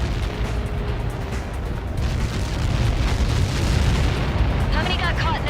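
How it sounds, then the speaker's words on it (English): A huge explosion in the flight combat game Ace Combat 7: Skies Unknown: a deep, sustained rumbling roar that swells and lingers, with faint chirping tones near the end. "How many got caught in that explosion?"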